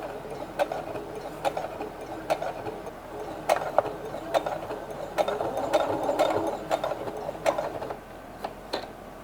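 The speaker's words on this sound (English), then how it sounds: "And then we're gonna flip it up like this and do a top stitching." Sewing machine top stitching stretchy blue fabric, a steady mechanical whir broken by regular sharp ticks of the needle, close and continuous with no talking.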